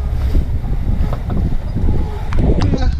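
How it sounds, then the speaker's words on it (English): Wind at sea aboard a snow crab fishing boat, a loud constant roar and buffeting across the microphone with low engine-like rumble underneath and no pauses. "Wind picked up here a little bit."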